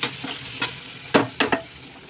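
Vegetables frying in a pan under a steady low sizzle, with a few sharp scraping stirs standing out, close by and with no speech.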